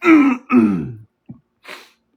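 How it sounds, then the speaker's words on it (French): Two harsh, voiced coughs in quick succession, followed by a short throaty catch and a faint breathy exhale, close to the microphone. "Quand on tousse, là, quand on s'étouffe, là"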